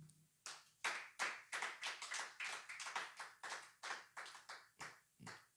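A church congregation claps in praise, a steady rhythmic run of about a dozen sharp, close handclaps with no talk.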